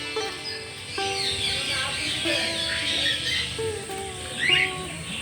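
Caged birds, among them a parrot, keep up a busy mix of chirps, squawks and whistled notes nearby, overlapping steadily in a calm village setting.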